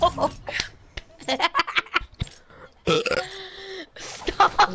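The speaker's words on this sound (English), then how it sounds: "I was gonna keep burping." A person lets out a series of loud, close burps in bursts, mixed with laughter and some talking around them during a video game session.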